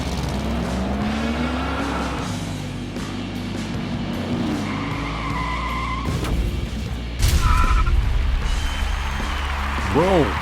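Diecast toy cars, including a Chevy Camaro concept, race down a track with a continuous rolling rumble, rising and falling sweeps and sharp whooshes toward the end, with a voice briefly audible.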